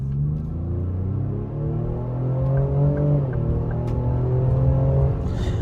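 A 2025 Ford Explorer ST pulls hard in sport mode, its engine note climbing steadily in pitch over a brief shift dip, a loud continuous rumble held close throughout.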